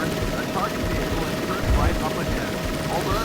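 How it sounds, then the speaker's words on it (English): A helicopter hovers overhead in the 1988 Taito arcade driving game Chase H.Q., a dense steady rotor rumble with brief whirring sweeps, mixed under game noise. "There will be a chopper overhead"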